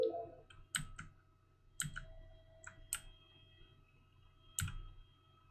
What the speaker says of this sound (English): you can hear is like the clicking of my horrible keyboard